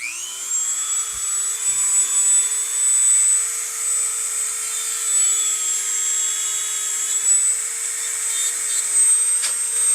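A high-speed rotary drill bit whines steadily as it cuts freehand into the polymer grip frame of a P365 pistol, a continuous close tone with slight wavering through the cut.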